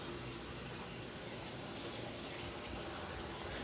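A washing machine, unused for five months, filling with water: a steady, loud, broadband rushing gush of water pouring in without a break.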